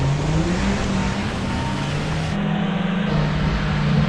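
A car engine drones and revs at high pitch, rising steadily and holding close and loud with no talking.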